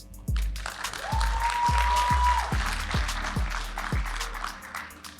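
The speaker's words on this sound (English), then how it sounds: "let's give another warm welcome or a warm applause to the speakers" Applause at a wedding reception, a room of guests clapping steadily for several seconds with a rhythmic beat of claps running underneath.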